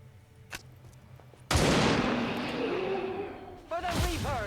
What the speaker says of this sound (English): now I'm going to try to shoot a 3rd time